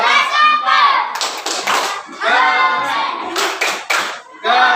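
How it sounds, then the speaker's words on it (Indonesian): Group of children clapping hands in a classroom, rapid rhythmic patterned claps in bursts, close and loud, with children's voices chanting between them. "Tepuk keren untuk kita semuanya."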